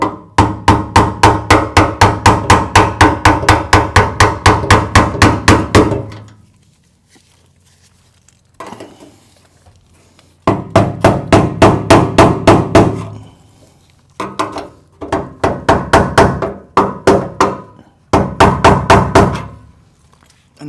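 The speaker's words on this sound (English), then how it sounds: "Now we can get our little flange tool and start tapping." Small hammer rapidly tapping a flange tool on the sending unit of a 1965 Mustang fuel tank, long runs of quick, even metallic knocks, loud and close, broken by a quiet pause and shorter bursts.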